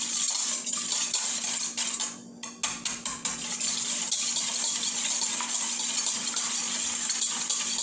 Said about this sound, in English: ito muna yung gagamitin to guys para sa pag-beat ng egg